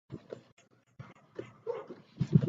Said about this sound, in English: I usually avoid the street because of the barking